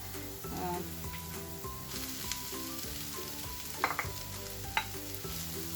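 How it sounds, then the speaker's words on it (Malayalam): Crushed fried prawns are stirred into sautéed onions in a hot pan for Malabar kalmas, a steady close sizzle broken by occasional scraping knocks of the spoon. "ഇതിലേക്ക് നമുക്ക് ക്രഷ് ചെയ്ത് വെച്ച നേരത്തെ ഫ്രൈ ചെയ്ത് വെച്ചിട്ട് ഒന്ന് ക്രഷ് ചെയ്ത് വെച്ച പ്രോൺസ് ചേർത്ത് കൊടുക്കാം."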